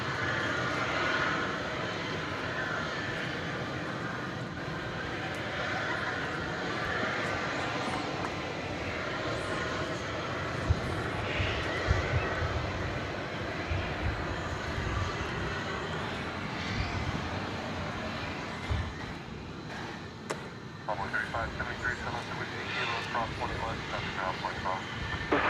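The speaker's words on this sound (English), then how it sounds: "From, I believe, Midland, Texas, this E-Jet coming in" An American Eagle E-Jet airliner on approach to land at DFW Airport in Texas, its engines a steady broadband roar that holds for the whole stretch. A commentator's voice runs over it.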